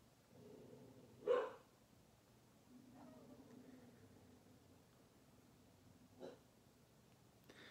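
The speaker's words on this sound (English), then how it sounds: "I'm gonna wait till she stops barking because I don't feel like talking over her bark." A pet dog barking indoors, one sharp loud bark followed later by a fainter second bark over a quiet background, with a little faint murmuring between.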